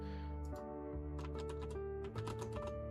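A computer keyboard clatters with rapid, continuous keystrokes in bursts, close and clear over a steady musical backdrop during a live stream.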